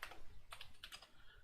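Faint typing on a computer keyboard with several quick, irregular keystrokes clicking close by in a quiet room during a live coding stream.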